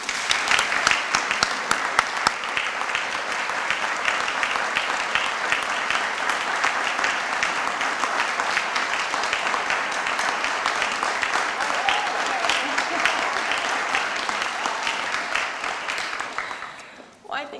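Sustained, dense audience applause at an alumni awards dinner as a speaker is welcomed to the podium, loud and continuous for many seconds before tapering off at the end.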